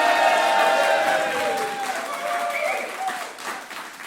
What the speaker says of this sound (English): they're now going to give us a massive round of applause